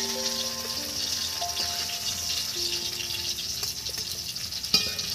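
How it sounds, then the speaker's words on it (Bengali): Hilsa fish frying in hot oil, a steady broadband sizzle running throughout with faint clinks and a brief sharp knock near the end, no voices. "বন্ধুরা এই মাছগুলো আমার ভাজা হয়ে গেছে"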